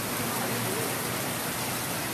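A heavy rain shower over São Pedro floods a street, heard as a dense, steady roar of falling water with no breaks and no voices.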